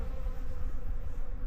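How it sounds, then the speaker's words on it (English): Bees buzz in a backyard apiary on a cold early-spring day with no flowers out, giving a close, steady droning hum that holds without breaks. "Bees don't work unless there's a benefit to it."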